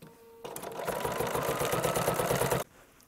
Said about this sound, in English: The machine will take it. We just need to give it some direction.